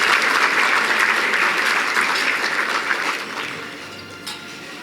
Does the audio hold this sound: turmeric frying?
no